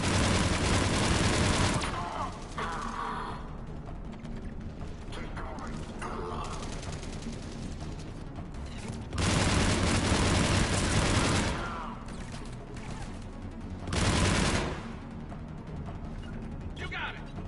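Sustained bursts of gunfire fill the Mass Effect 3 firefight, loudest in heavy volleys near the start, middle and end, with battle noise and voices in between.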